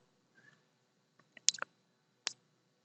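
A computer mouse clicks close and quietly in a quick double-click, followed by a single click a moment later, in a near-silent room.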